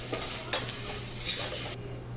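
Chili powder stirred into ginger garlic paste in a pan, a low steady sizzle broken by a few scraping strokes of a spoon, fairly quiet and with no talking.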